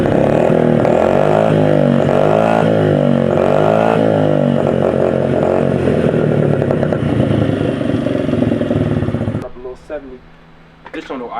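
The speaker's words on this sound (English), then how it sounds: "let's go ahead and start the little bikes up first" A small motorbike engine with no exhaust tip revs loud and raspy up close, sputtering and popping for several seconds before cutting out to near quiet.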